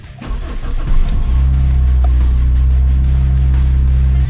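A Toyota Celica's 2ZZ engine settles into a steady, loud idle after an idle air control valve replacement, a continuous low hum running unbroken and alone.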